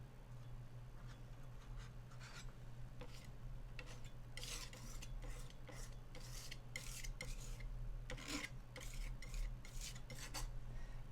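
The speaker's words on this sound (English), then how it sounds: "You can hear it scraping on that canvas." A palette knife scrapes white oil paint across a canvas in quick, repeated rasping strokes that are soft and close, over a steady low background hum.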